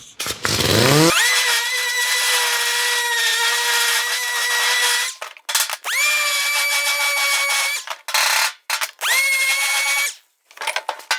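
A pneumatic DA dual-action sander spins up and sands a welded, warped metal panel on a 1940 Ford-inspired car, running in loud sustained whirring bursts with brief stops between passes.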